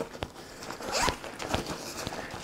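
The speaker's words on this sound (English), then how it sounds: "Let's open this zipper up here." A zipper is drawn open on a Tech21 laptop bag, with a quick ripping pull and a few small clicks and rustles around it, close and fairly quiet.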